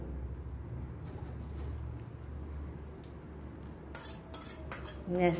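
Aloo potol curry is ladled from the pot into another vessel, with a few metallic scrapes and clinks of spoon on pot near the end over quiet room hum.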